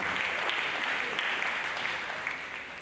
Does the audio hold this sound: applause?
yes